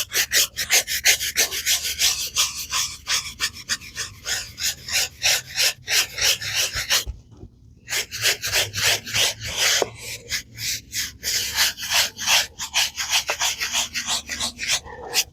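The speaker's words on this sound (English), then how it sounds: "Let's get that scrubbing." A soft brush scrubs a surface in quick, rhythmic back-and-forth strokes, close and fairly loud, pausing briefly partway through before the scrubbing resumes.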